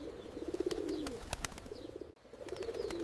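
Pigeons coo in low, throaty repeated calls close by as an old man feeds them, with soft flutters and light ticks mixed in.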